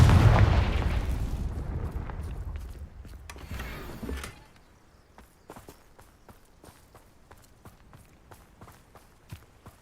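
A Confringo fire spell explodes in Hogwarts Legacy with a loud, booming blast that rumbles and fades over about four seconds, followed by quiet, evenly spaced footsteps.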